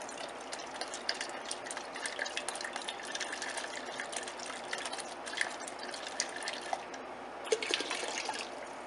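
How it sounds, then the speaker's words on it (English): Water trickles and drips while molasses residue is rinsed out of a container in a home kitchen, a soft, steady splashing that stays close and fairly quiet, with no talk over it. "One more little rinse."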